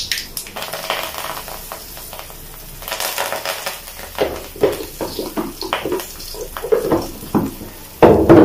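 Asafoetida sizzles in hot oil in a pan while tiffin sambar is being made, with soft crackling and intermittent stirring scrapes and clatter, then a louder sizzle near the end.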